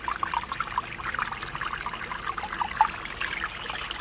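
Water trickles steadily over a waterfall rock into a koi pond, a soft continuous splashing dribble heard close up with no voices.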